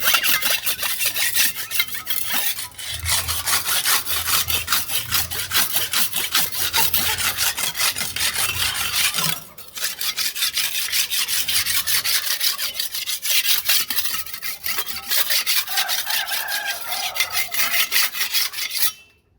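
A blade is sharpened by rubbing it in quick, rhythmic rasping strokes, close and steady throughout with a brief pause near the middle.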